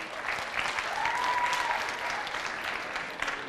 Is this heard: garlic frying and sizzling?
no